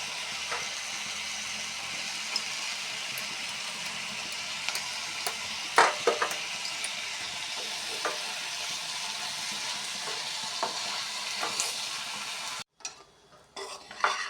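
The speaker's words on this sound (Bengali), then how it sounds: "এই যে বাজা হয়ে যাচ্ছে এখন এটা হলো আলু দিয়ে ভুট্টা বাজা" Corn kernels and potatoes fry in a pan with soy sauce and spices, a loud, continuous sizzle and hiss broken by the scrape and clatter of stirring, then cutting out sharply near the end.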